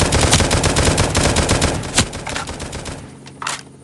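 Rapid bursts of automatic gunfire from the survival video game Oxide: Survival Island during a clan base raid, loud and dense, tapering off near the end with a few scattered shots.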